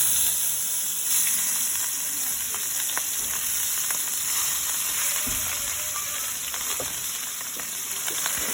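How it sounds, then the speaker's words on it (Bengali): Hilsa fish fries in a pan with a steady, loud, close hiss and crackle that runs throughout, broken by occasional small pops and spatters. No one speaks. "এখন আমি ইলিশ মাছটা ভেজে নিচ্ছি"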